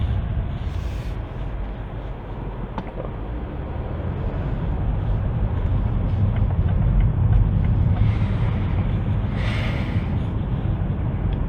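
A BMW M5 Competition sedan in comfort mode rolls off slowly, a steady low engine and road rumble heard from inside the cabin, growing slightly fuller as it moves.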